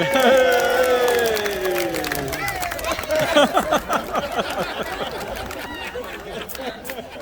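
A crowd at a Battle of Falkirk re-enactment reacts, rising from a sustained cheer into a busy mix of shouts, chatter and scattered clapping. Voices stay fairly close throughout.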